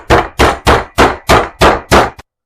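A meat hammer's piercing side strikes steak for tenderizing, seven loud, evenly spaced thuds in quick succession, close and alone.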